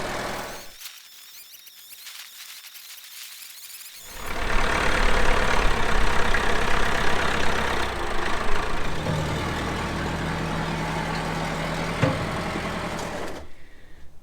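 Old Massey Ferguson tractor engine idling steadily, quieter at first, then a louder, continuous low rumble with a faint squeal running on without talk.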